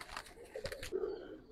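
Giribaz pigeons give soft, low cooing, a few brief throaty murmurs at close range, faint and short with light background noise.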